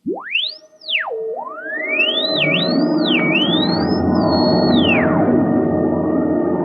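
A swooping synthetic tone rises and falls in sweeping arcs, then dives away as a rushing, roaring whoosh builds underneath and holds.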